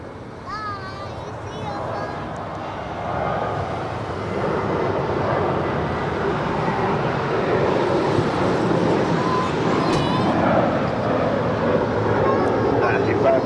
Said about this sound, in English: The China Airlines Cargo 777 lining up for a departure on 25 left.